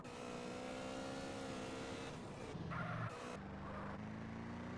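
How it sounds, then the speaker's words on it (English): A car engine hums in GTA The Definitive Edition, a steady droning tone at moderate level that briefly dips and shifts pitch as if changing gears, then settles back into its hum. "The engine of this car is amazing"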